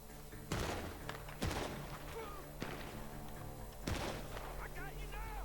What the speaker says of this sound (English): The gunshots are coming from that...